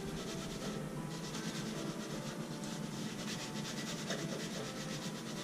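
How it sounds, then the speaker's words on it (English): A scraper pad rubs back and forth over cast stove grates during a deep clean, giving a steady, close, gritty scrubbing sound that runs without pause and without speech. "for some of these harder to get spots, I'm going to try to use the scraper pad"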